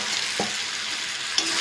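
Raw jackfruit and potato dropped into a spiced gravy and stir-fried, a steady sizzle with a couple of brief stirring scrapes and a small clink, no talking.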